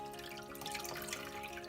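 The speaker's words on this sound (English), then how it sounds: "Now, you're just going to pick it up and squeeze it. Don't twist. And squeeze out the water." Water drips and trickles from wet yarn as it is squeezed by hand, a soft close patter over a steady low hum, with no voices.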